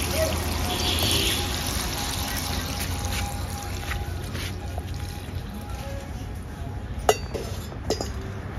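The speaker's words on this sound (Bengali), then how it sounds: "আমি গরম জল দিয়ে দিচ্ছি।" Hot water is poured into a pan of chicken curry cooked with ripe mango, giving a steady rushing, sizzling wash of liquid noise, with a couple of sharp utensil clinks near the end.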